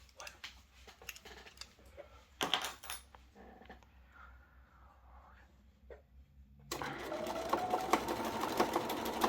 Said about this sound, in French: je couds cette ligne suivante